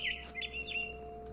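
Bird in What Remains of Edith Finch giving a few quick high chirps over a steady low hum, fairly faint and close.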